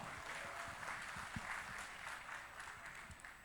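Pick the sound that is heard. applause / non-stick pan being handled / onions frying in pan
applause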